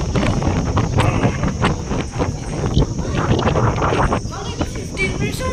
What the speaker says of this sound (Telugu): చూసారా ఎంత గాలి వస్తుందో.